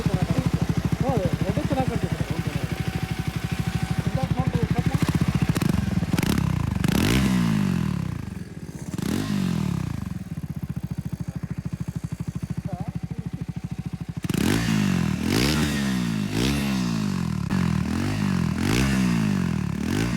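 A Triumph Scrambler 400X motorcycle engine running close by, a steady throbbing exhaust note with repeated throttle blips rising and falling, loudest in bursts near the end, with no talk over it.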